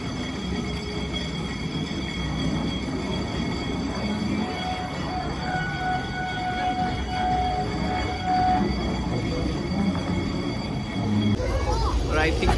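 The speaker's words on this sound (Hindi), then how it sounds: "ये ब्रेक लगता जा रहा है। ट्रामवे स्लो हो गई।" The Great Orme cable tramway in Llandudno rumbles steadily as it brakes and slows, with faint wheel squeals and a mechanical hum throughout, and people talking nearby.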